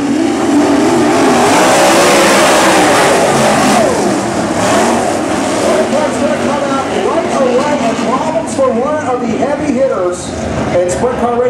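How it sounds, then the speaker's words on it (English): Sprint cars racing at Lawrenceburg Speedway, engines roaring loud and continuous as the pack accelerates on a green flag, with rising and falling revs from several cars, under an announcer's commentary. "And sprint car racing"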